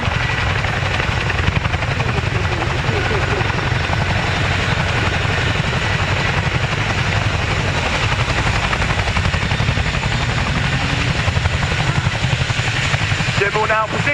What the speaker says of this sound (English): The Chinook is the only helicopter capable of this impressive feat